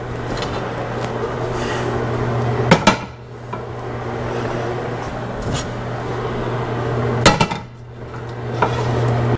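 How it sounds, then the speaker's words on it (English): Cooking pans are pulled out and set down in a home kitchen, giving two sharp metallic clanks a few seconds apart over a steady low hum, with lighter rattles between. "I'm going to start getting the pans over here"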